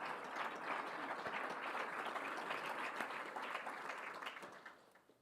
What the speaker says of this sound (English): please let's give him a nice warm round of applause